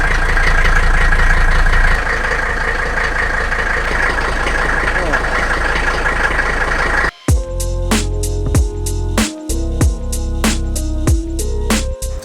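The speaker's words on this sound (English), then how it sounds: "It is actually possible to enjoy nature behind a running diesel Mercedes as well." An old diesel Mercedes engine idles with a steady, even rumble while someone talks over it, before the sound cuts away to plucked music.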